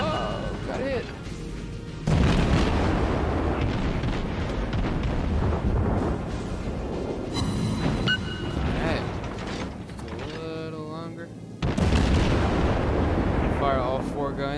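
Cruiser naval guns and explosions in World of Warships gameplay, heavy booming blasts and mechanical clanks in bursts, loud and layered with game music and a speaking voice.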